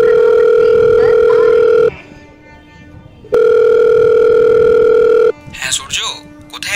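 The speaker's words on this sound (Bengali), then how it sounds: "আমি স্টেশনে পৌঁছেই অমিতকে ফোন করলাম" A telephone line tone sounds at the start of a call, two long steady tones separated by a quiet gap, loud and close, followed by a few faint other sounds.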